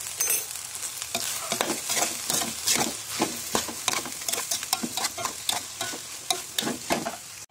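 Vegetable filling for crispy fried pastries is stirred steadily in a hot frying pan, the utensil scraping in a quick repeating rhythm over a constant close sizzle, with no voices.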